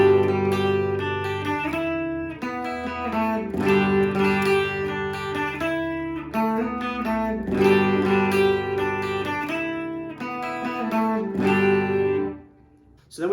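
Electric guitar playing one guitarist's part of a song: a steady, repeating riff of ringing picked notes and alternating fills, played up close for over ten seconds with no voices.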